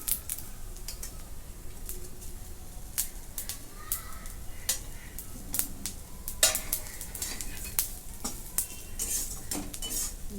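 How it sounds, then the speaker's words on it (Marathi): Grated coconut is sautéed in a little oil for a chicken rassa. A utensil scrapes and clinks against the pan in quick, irregular strokes over a faint sizzle, with no voices. "ते पण परतून घेते थोडंसं तेल सोडून घेते म्हणजे लवकर भाजलं जाईल"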